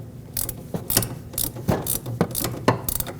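Clamp-on tie rod tool being fitted onto the inner tie rod of a 2006-2015 Lexus IS250, giving a steady run of quick metallic ratcheting clicks in short bursts, close and fairly loud with no talk.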